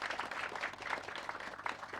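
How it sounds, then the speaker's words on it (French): Dense, steady applause from an audience, a continuous wash of many hands clapping at moderate volume with no voices standing out. "On les applaudit très très fort, s'il vous plaît."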